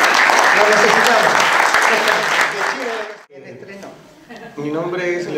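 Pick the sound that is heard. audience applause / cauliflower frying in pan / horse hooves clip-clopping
audience applause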